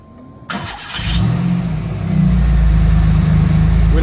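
A car engine cranks and fires after a sharp click, settling into a loud, close, steady running rumble that builds slightly as it catches.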